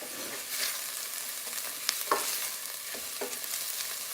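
Softening onions fry in oil in a pan for a masala base sauce while a spoon stirs them, producing a soft steady sizzle with a few scraping strokes and light knocks close by.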